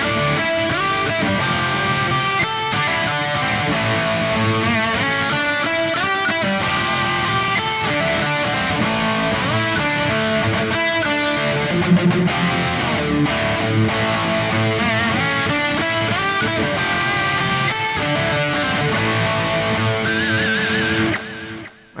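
A Mooer GTRS M800 electric guitar through an 808 overdrive with delay, modulation and reverb plays a steady, dense run of distorted notes for about twenty seconds, loud and up close, then cuts off abruptly at the end.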